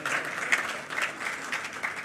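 Audience applause fills a conference hall at an African Union health summit in Accra, a steady patter of many hands clapping at moderate distance for about two seconds.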